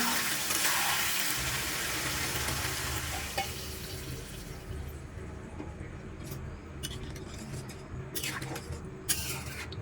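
Water pours into a pot of fish curry being cooked, giving a broad rushing, sizzling wash that is loud at first and gradually settles into a softer bubbling with a few sharp clicks near the end.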